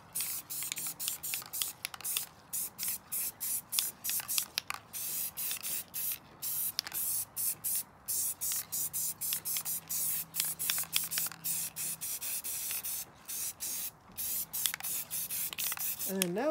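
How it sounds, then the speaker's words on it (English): A can of black spray paint hisses in short repeated bursts, close and sharp, with brief pauses between sprays throughout. "you're just gonna spray back over everything"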